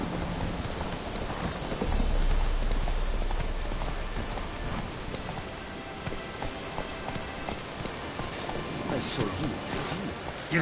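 Horse hooves pound along in the Witcher 3 video game, a continuous run of hoofbeats under a steady wash of ambient game noise that swells briefly near the start.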